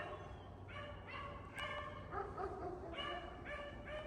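Beagle hunting dogs bay at a distance during a rabbit hunt, giving a string of repeated howling barks in short bursts that carry across open country.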